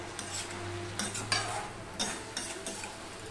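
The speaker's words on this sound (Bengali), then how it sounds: "দেখো ঘেঁটে দিলাম পুরো" A spoon stirs Hilsa fish head with Malabar spinach in a pot, scraping and knocking in a few distinct strokes over a soft sizzle, close and fairly loud.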